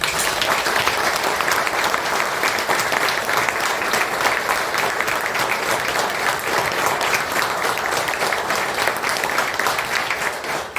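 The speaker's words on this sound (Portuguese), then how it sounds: "Uma salva de palmas." Steady, enthusiastic applause from a large crowd, many hands clapping continuously at an even loudness for the whole stretch.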